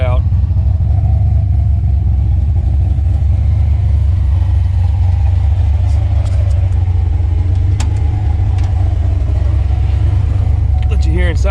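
A car engine with its tailpipes cut out rumbles loudly and steadily at idle, with a deep, throaty exhaust roar that continues throughout.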